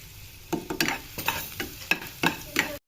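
Garlic paste and onion frying in oil in a home kitchen, with a steady sizzle broken by a series of sharp stirring scrapes roughly every half second, close and fairly loud, with no talk.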